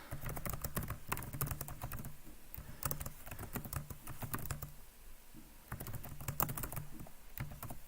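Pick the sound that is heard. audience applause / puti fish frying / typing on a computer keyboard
typing on a computer keyboard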